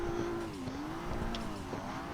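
A car drifting, its engine holding a steady droning note that dips and rises as the tires slide, heard fairly faintly and continuously with no talking.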